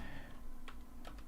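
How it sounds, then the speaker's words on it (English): Crisp clicks of a mechanical computer keyboard being typed on, a few sharp keystrokes near the middle and end of a short stretch over a steady low background hum. "It's very important that you guys can hear the keyboard"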